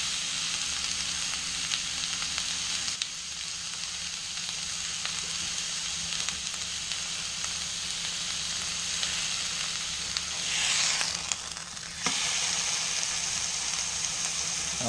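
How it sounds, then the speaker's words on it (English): A whole haunch of venison sears in a hot pan, a constant close sizzle and crackle of fat that carries on steadily with a few sharper spits and brief flare-ups and no speech. "now going to sear off the venison"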